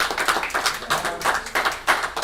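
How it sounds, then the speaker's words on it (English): A small group clapping at a township committee work session, a loose, rhythmic patter of claps in uneven bursts, fairly close and moderately loud, with no speech over it. "let's give a big round of applause for Lauren."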